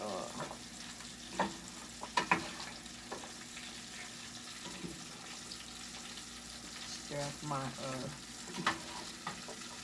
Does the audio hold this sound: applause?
no